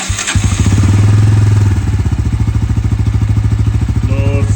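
A Pulsar N160 motorcycle with a fault that keeps it from holding idle and makes it lose power starts with a short crank, then catches into a loud, close, rapid single-cylinder idle thrum that stays steady.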